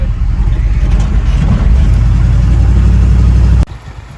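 A 1985 Chevy square-body truck's budget 350 V8 rumbles steadily and loudly, low and close, then cuts off abruptly near the end.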